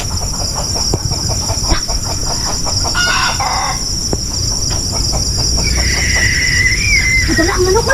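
Chickens in a rural setting, clucking and a rooster crowing over constant insect and cricket chirring, with people talking nearby.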